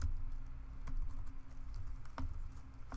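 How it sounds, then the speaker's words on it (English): Typing on a computer keyboard, a soft irregular patter of key clicks with a few sharper taps, close and quiet with a low hum underneath and no talking. "you could just simply start typing"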